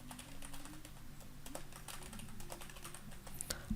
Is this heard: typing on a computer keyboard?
yes